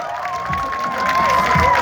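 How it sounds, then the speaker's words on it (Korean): Audience cheering and applauding at a b-boy battle awards ceremony, a steady crowd roar with a sustained tonal hum or whistle running through it and scattered shouts throughout. "여러분 박수 주세요!"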